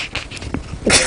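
A single short, sharp sneeze bursts out at the end of a quiet moment, close and loud.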